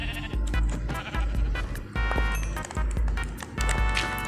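Sheep in the Minecraft video game bleat repeatedly, close and loud, mixed with rhythmic thumping hits and squishy game effects in a steady, busy sequence.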